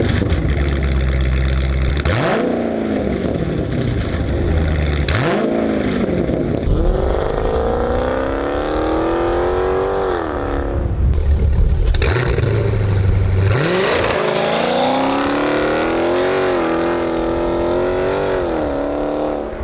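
Loud Dodge Challenger ScatPack exhaust with the mid-mufflers deleted, revved repeatedly in several sharp bursts that rise and fall in pitch between throaty idle stretches, heard close with no talking.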